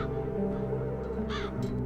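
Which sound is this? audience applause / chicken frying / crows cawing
crows cawing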